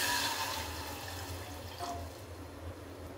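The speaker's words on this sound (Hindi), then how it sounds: "अब इसमें पानी डालेंगे।" Water is poured into a pan set over a lit gas stove while cooking maida farra, a close, splashing gush that trails off into a quieter trickle.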